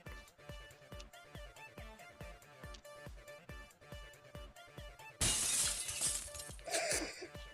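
Glass shatters as a game effect during a trial in Danganronpa, a sudden bright crash breaking over a pulsing rhythmic music track, followed by a second smaller burst of tinkling fragments.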